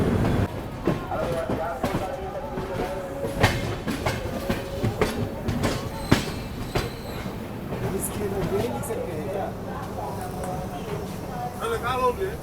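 Bihar Sampark Kranti Express rolling toward Samastipur Junction, with steady rumble and rhythmic clickety-clack of wheels over rail joints and brief squeals, continuous and close throughout, with a voice talking over it.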